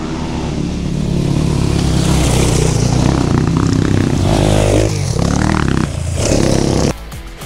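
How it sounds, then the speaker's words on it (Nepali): A rally of motorcycles roars past close by, a dense continuous blend of revving engines that swells and shifts before cutting off abruptly near the end. "बाइकहरूको र्याली आयो"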